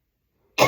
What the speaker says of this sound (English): I feel a cough.